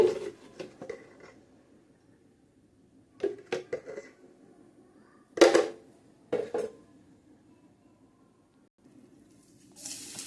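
Spoon scraping and clinking against a pan while dudhi halwa is stirred with ghee, sugar, cardamom powder and charoli, coming in short irregular bursts separated by quiet gaps, close and fairly crisp.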